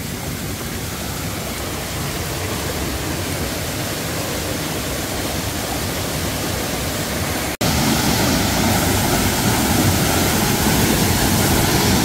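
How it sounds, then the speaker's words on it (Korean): Simwon Falls at Dojangsan in Mungyeong roars as a loud, dense, continuous rush of falling water heard from very close, with a brief cut and a slightly louder wash after it. "폭포 안으로 들어왔어요."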